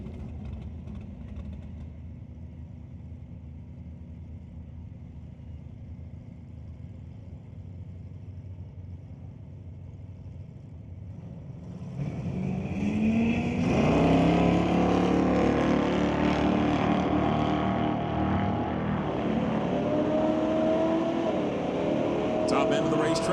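At a drag strip, a 1979 Malibu and a 1975 Dodge Dart idle with a low steady rumble, then launch into a loud, rising engine roar that holds to the end, with an announcer talking throughout.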